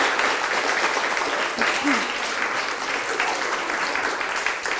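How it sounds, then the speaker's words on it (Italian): Steady, loud applause from a studio audience at a junior quiz show for two team captains, continuous dense clapping close by with a faint voice briefly in the background. "facciamo un applauso ai due capitani, Gioele e Gaia"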